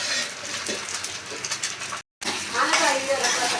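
Fish curry is stirred in a pan, a close, steady scraping and bubbling sizzle that runs on, breaks off briefly and then resumes louder, with no one speaking over it.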